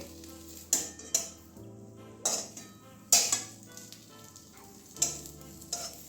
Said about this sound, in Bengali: এইভাবে সাইডগুলো একটু ভেজে নিলে ভালো হবে